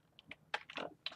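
Code typed on a computer keyboard, a short run of quiet, close keystrokes in an irregular rhythm with no talking.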